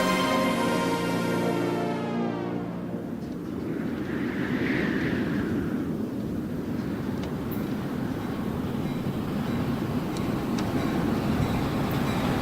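A train in the video game World of Goo 2 rushes steadily along its rails, a loud continuous rumbling roar with a falling whine at the start and a faint tone partway through.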